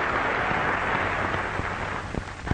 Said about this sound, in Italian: Il Conte Ciano unisce il suo applauso a quello dell'Assemblea.